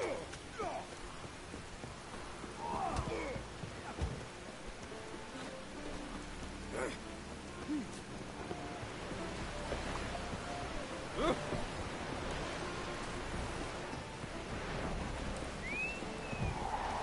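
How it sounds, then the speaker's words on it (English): Steady rainfall in The Witcher 3 game world, a soft continuous patter with faint wind and scattered thuds, sitting low and even throughout. "Maybe we needed a spot of rain."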